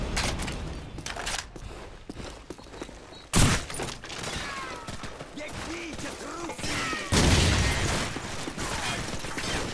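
Gunfire in the game Call of Duty 4: Modern Warfare: dense, continuous bursts of rifle shots with heavy blasts and thuds, loud and close, while voices shout over the battle.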